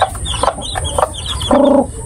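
A mother hen clucks in short, soft bursts close by among newly moved chicks, ending with a longer, drawn-out cluck; no one speaks.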